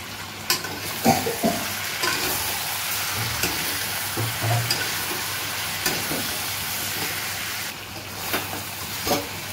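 Meat frying with meat masala in hot oil, a loud, continuous close sizzle and bubbling with occasional sputters and scraping knocks, steady throughout with no voices.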